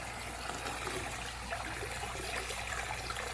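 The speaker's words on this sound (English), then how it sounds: "just fill up with some of the mountain water here" Mountain spring water runs steadily from a tap on Mt. Kongo near Osaka, Japan, a continuous close trickle and splash while a container fills, with no talking.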